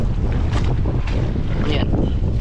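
Strong wind roars across the microphone on a fishing boat out at sea, with waves slapping and rushing close by in a loud, constant churn.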